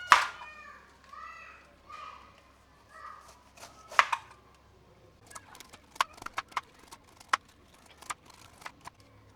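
Pineapple is cut into pieces on a board, heard as a close series of sharp knife taps that quicken toward the end, with a few voiced sounds early on.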